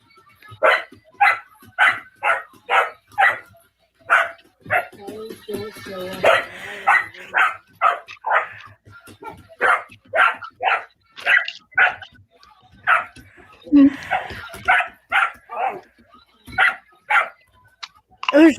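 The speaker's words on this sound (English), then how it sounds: "She's not just barking at it." A dog barking repeatedly while attacking a toy, sharp close barks in quick runs with short gaps, some growling and yips mixed in, and a person talking over it now and then.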